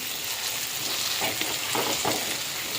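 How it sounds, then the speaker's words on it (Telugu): Ground paste sizzles and fries in hot oil for ulava rasam, a horse gram soup, as a spoon stirs it through the pan, with a steady close crackle and a few scraping strokes. "ఇప్పుడైతే మనం పేస్ట్ చేసింది దీంట్లో వేసినాము, బాగా కలిపేయాలండి."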